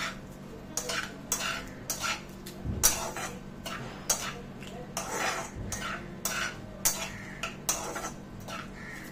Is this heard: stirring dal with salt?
yes